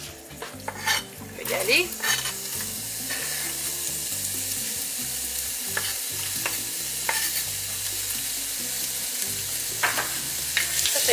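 A piece of ginger frying in hot oil in a home kitchen, a steady close sizzle running throughout with a few clinks and stirring scrapes, and a brief spoken word early on.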